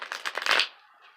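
Tarot cards being shuffled close up, a quick run of riffling, slapping bursts that ends in a sharp flurry before trailing off into near silence.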